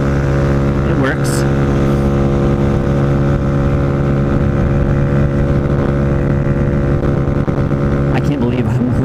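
A Honda Ruckus scooter engine drones steadily and loud while riding at about 35 mph, a constant harmonic hum with wind rumble and someone talking over it throughout.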